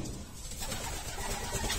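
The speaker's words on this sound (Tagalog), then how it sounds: "Sana makauwi yung kalapati na yan." Racing pigeon cooing outdoors during a derby homecoming, soft repeated coos over a constant background hiss of open air, fairly faint and with no voices.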